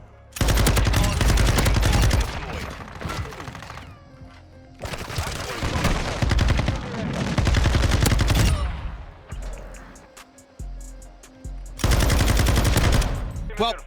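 Sakin MG38 light machine gun in Modern Warfare 2 fires long, loud, close automatic bursts, several sustained strings of rapid shots broken by brief quieter pauses.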